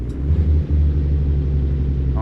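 A Freightliner Cascadia truck's engine brake in American Truck Simulator gives a loud, continuous low rumbling drone that holds steady for about two seconds, with no talking over it.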